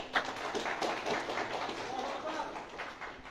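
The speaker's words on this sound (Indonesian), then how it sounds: "Yang tepuk tangan bingung" An audience claps during an Islamic sermon, scattered, fairly quiet patters of applause running throughout, with voices murmuring underneath.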